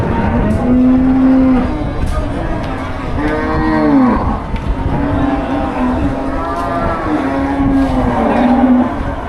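Cattle at a busy cattle market in Melapalayam lowing repeatedly, several loud moos rising and falling over a constant din of crowd noise and traffic.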